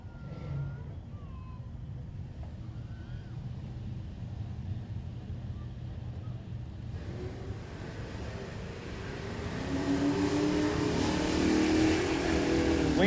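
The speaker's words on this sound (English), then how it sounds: "Clean launch for Vandenberg" A Pontiac GTO convertible and a Dodge Challenger launch side by side at a drag strip, engines building from a low idle rumble into a loud sustained roar halfway through and climbing to the end.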